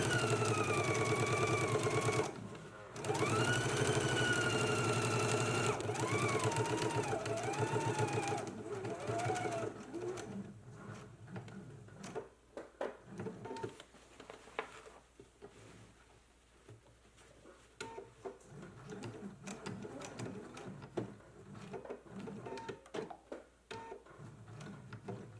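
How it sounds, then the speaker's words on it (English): A sewing machine runs in bursts of rapid mechanical stitching while top stitching a Know Me ME2132 jacket, with tonal sound and possible voices early on, then clicky, uneven runs of the machine up close. "So let's go ahead and do all of our top stitching now"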